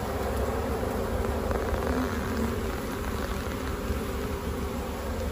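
Dense, steady buzzing of many honey bees close by at the hive in February, a constant humming swarm with no pauses or voices.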